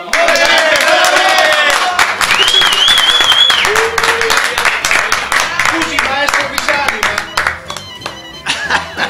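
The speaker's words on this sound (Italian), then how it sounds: "Un applauso!" Applause from the audience at a salami tasting evening in Forlì, dense clapping with cheers and shouts over it, loud and sustained across the whole stretch.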